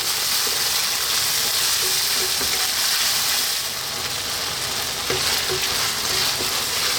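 Salmon cream pasta sauce sizzles steadily in a pan over medium heat, a loud, dense, continuous frying hiss close by, with faint scrapes and taps as it is stirred and kept moving.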